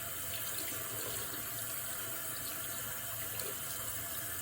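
Running tap water rinsing lather out of a traditional shaving brush at a sink, a steady faint hiss and splash throughout with no voice.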